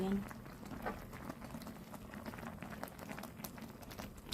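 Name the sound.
tteokbokki with onion simmering and boiling in a pot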